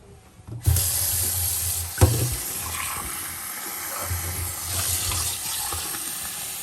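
Tap water runs steadily into a sink for a drink, a broad continuous gush with a couple of brief knocks, close and alone with no talk.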